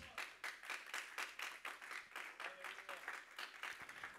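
A church congregation claps in a steady, even rhythm of about two claps per second. The clapping is soft, as if heard from a distance, and goes on continuously throughout.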